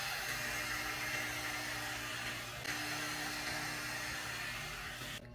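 A Hodekt 2-in-1 blower brush dries hair, a steady close whooshing hum of blowing air that runs continuously, with a brief shift in tone midway, and then cuts off at the end.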